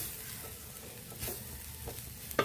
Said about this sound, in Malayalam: എല്ലാം കൂടി ഒന്ന് മിക്സ് ചെയ്തെടുക്കട്ടെ